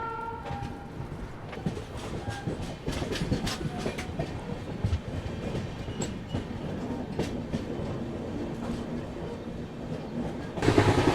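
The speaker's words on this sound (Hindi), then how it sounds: "मेन लाइन पे आते ट्रेन की रफ्तार भी ठीक ठाक हो गई है।" Kongu Express running on the main line between Hyderabad and Bangalore, with a steady close rumble and rapid clickety-clack of wheels on rail joints throughout and a louder rushing surge at the very end.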